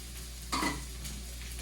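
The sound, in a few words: frying onion and leek in a pan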